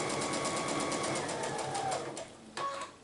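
Sewing machine stitching quilt block pieces, a steady close whirring run of rapid stitches that slows and stops near the end, followed by a brief second burst.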